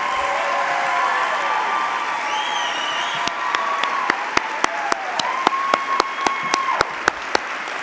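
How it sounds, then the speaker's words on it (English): At a Teacher of the Year ceremony, a crowd applauds the five finalists: sustained clapping with whistles and cheers early on, then sharp, distinct nearby claps punctuating the wash. "Big round of applause for all of them."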